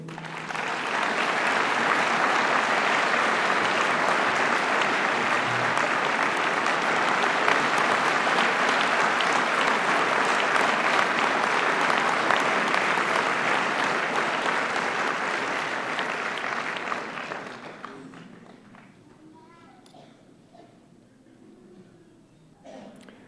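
Loud, sustained applause from a ceremony crowd for a new doctoral graduate in public administration at a 2013 graduation, steady for about eighteen seconds before thinning into scattered claps and room noise.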